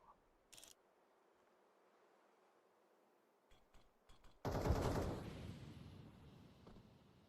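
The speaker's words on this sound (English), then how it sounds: "They're shooting at ghosts on the A site." Gunfire from a tactical shooter esports match: a few faint, scattered shots early on, then a louder burst of rapid fire that trails off into a sustained, noisy decay of echoing shots and ambience.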